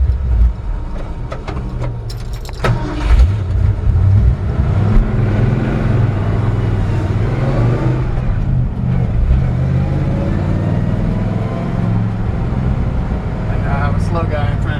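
A 1965 Ford F100 pickup driving on residential streets, its engine a steady, loud low rumble that swells as it accelerates, heard from inside the cab with road and wind noise and some talking.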